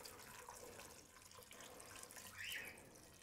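Water runs steadily into an Instant Pot over about 2.5 pounds of Yukon Gold potatoes, a soft, continuous pour that swells slightly louder near the end, with no talking.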